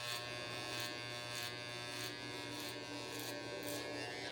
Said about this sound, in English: I'm just going to round it off with some light clipper work here